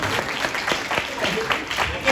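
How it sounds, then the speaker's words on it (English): A church congregation claps steadily, a warm burst of applause with some voices mixed in. "Let's give her a hand clap."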